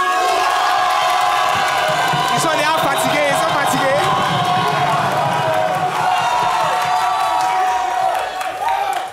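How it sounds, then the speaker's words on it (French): Studio audience on the French TV show Ici, On s'Enjaille cheering, whooping and applauding loudly after a dance battle, a dense sustained roar of voices and clapping with a host talking over it. "On fait un max d'applaudissements."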